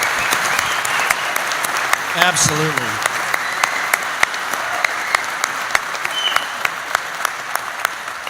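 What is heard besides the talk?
audience applause for sheriff and deputies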